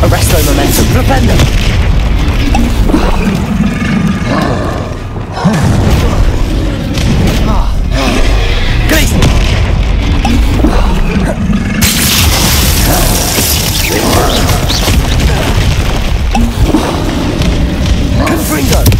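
Spell blasts and explosions from the Hogwarts Legacy video game boom one after another across the whole stretch, loud and dense, while voices shout spell incantations over the constant barrage.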